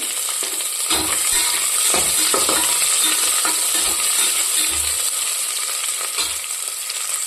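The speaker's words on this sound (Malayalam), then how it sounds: "നന്നായി മൂത്ത് ഗോൾഡൻ കളർ വരണം കേട്ടോ" Sliced onion rings fry in hot oil until golden, a loud steady sizzle with intermittent clinks and scrapes of a spoon stirring in the pan.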